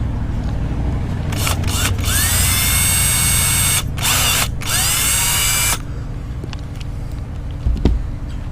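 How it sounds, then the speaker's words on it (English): A power drill driving screws into a black tank cyclone vent, several whining bursts that rise in pitch as the motor spins up, separated by short pauses, close and loud, then a quieter stretch with a faint click. "Then drill your next hole."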